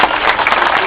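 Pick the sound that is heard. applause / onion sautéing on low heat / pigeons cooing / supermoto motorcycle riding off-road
applause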